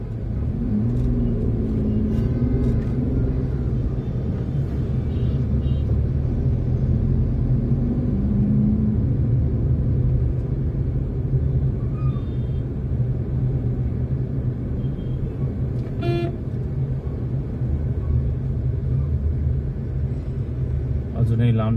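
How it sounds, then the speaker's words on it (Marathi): Stuck in road traffic in Panvel, a vehicle interior hums with a constant low engine rumble, passing vehicles and occasional horn-like tones, while someone talks over it. "आता परत आपण अडकलेलो आहोत पनवेलच्या ट्रॅफिकमध्ये"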